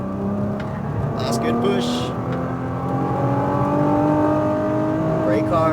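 A Nissan GT-R's engine drones and pulls steadily under acceleration on a racetrack at SpeedVegas, a sustained harmonic roar close to the listener, while someone talks over it.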